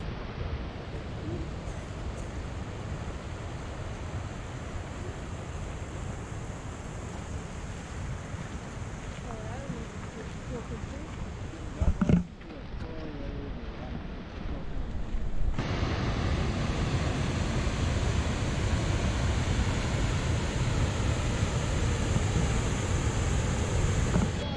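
A waterfall on the Running Eagle trail in Glacier National Park, a constant roaring rush of falling water heard up close, steady throughout with wind buffeting the microphone and one brief bump midway.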